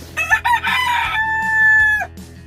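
A rooster among a flock of chickens lets out one full, loud crow with a long sustained final note, preceded by short clucking calls nearby.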